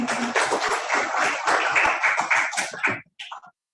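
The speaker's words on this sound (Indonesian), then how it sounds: "Boleh beri tepuk tangan satu kali lagi." A crowd at a school library event claps for a few seconds, steady dense applause that stops abruptly, followed by a couple of faint trailing sounds.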